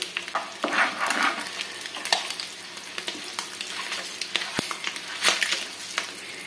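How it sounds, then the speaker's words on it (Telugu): Eggs frying on a very low flame with salt, chili powder, turmeric, coriander powder and garam masala, giving a steady close sizzle with scraping stir strokes and a couple of sharp utensil taps. "దీంట్లోకి ఉప్పు, కారం, పసుపు, ధనియాల పొడి, గరం మసాలా వేసుకొని ఫ్రై చేసుకోవాలి"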